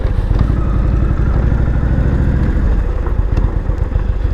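A dual sport motorcycle engine drones steadily while riding a switchback highway, Highway 32 out of Cosby, Tennessee, with a close, continuous low rumble and some wind and mechanical clatter, no talking.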